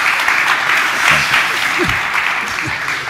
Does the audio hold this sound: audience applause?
yes